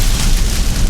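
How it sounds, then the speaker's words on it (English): Heavy rain mixed with hailstones drums on a camper van during a storm at a Peak District park-up, a dense, loud, continuous roar with no pauses and no talk. "Wow, look at that rain."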